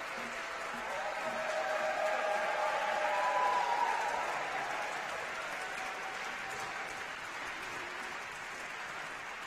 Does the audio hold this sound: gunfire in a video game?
no